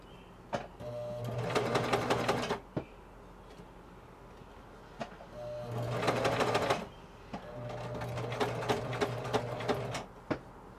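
A sewing machine stitching pleated fabric runs in three bursts of rapid, even needle chatter, each a couple of seconds long, separated by pauses with faint clicks as the work is handled, close and moderately quiet.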